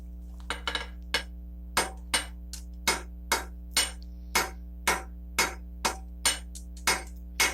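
A hammer forges a square taper on horseshoe steel laid over an anvil, a series of sharp, ringing metallic strikes at a steady, unhurried rhythm, close and alone against a faint background hum.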